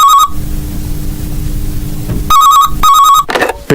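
A telephone rings in short repeated electronic bursts, loud and close, with a quiet room hum between the rings and no talk.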